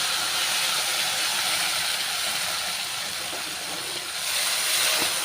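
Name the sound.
sizzle of kuzhambu poured into hot tempering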